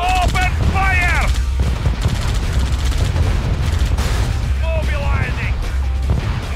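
Rapid unit gunfire from a Red Alert 2: Yuri's Revenge battle, dense bursts of shots running continuously and loud, with short voiced unit responses breaking in over the firing.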